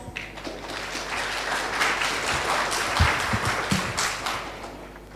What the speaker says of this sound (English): Please give your round of applause.